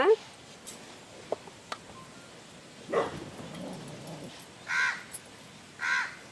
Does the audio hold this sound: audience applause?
no